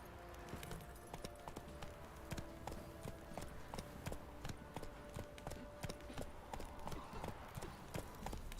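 Roach, Geralt's horse in The Witcher 3, gallops in a quick, even rhythm of hoofbeats that runs steadily throughout, heard faint and somewhat distant in the game's mix.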